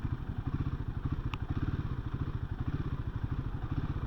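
A 2024 Royal Enfield Himalayan 450 with a fly-by-wire throttle, its single engine pulsing in a steady rapid thump, heard from fairly close with no voices over it.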